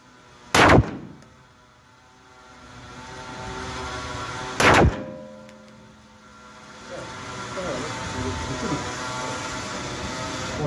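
Two sharp, loud pistol shots ring out a few seconds apart at a shooting range, fired from a Canik SFx Rival and a Glock. Low room rumble and faint voices fill the gaps between them.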